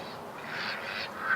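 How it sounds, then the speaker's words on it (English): Ducks crowding a yard give a brief, fairly close burst of overlapping quacks and honks, lasting only a moment. "The yard is full of ducks."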